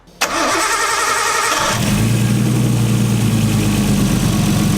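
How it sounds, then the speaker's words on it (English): A Nissan 240 with an RB20 engine cranks with the starter whirring, catches and settles into a loud, steady idle, close by. "So I'm gonna start the 240 up"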